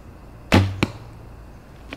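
A traditional bow is released and the arrow thuds sharply into a 3D foam animal target at an outdoor archery shoot, followed by a second smaller impact and a faint later tick, then quiet.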